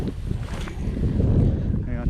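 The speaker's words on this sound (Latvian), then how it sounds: "Vējiņš no sāna nedaudz." Gusty wind buffets the microphone from the side on open water near a boat, a dense low rumble that swells and eases, with a faint voice toward the end.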